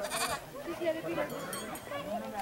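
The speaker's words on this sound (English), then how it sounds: "Here's a guy carrying a sheep." Quavering bleats from a sheep or goat being carried by a man, close by, with voices talking over them.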